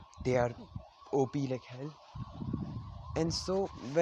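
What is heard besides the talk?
ambulance siren outside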